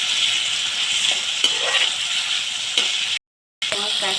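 Turmeric frying in hot oil with tomatoes being stirred, giving a steady bright sizzle broken by a few scraping stirs of a spoon and a brief dropout near the end.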